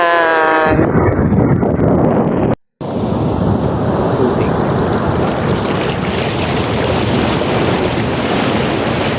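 Ocean waves crash onto the shore at a beach resort in Dingalan, Aurora, making a loud, continuous roaring wash mixed with heavy wind buffeting the microphone, broken by a brief cut of silence partway through.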